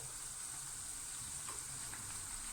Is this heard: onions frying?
yes